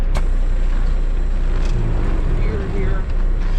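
Low, steady engine rumble of a cabover truck pulling away and rolling on an intermodal run, loud and continuous inside the cab, with a brief dip near the end.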